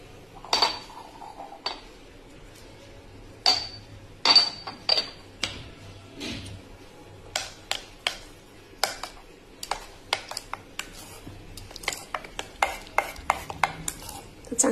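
Spoon clinks and scrapes against a bowl while rava besan idli batter is stirred with a pinch of baking soda, a string of sharp irregular taps and clatters, close by with no talk.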